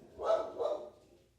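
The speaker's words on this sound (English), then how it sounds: "You'll hear my dog barking in the background," A dog barking in a room, two soft, slightly muffled barks in quick succession, distant and faint.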